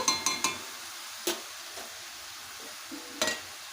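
A utensil knocks and scrapes through cabbage cooked with fish head in a pan, giving a few sharp, close clacks at irregular intervals over a soft, quiet simmer.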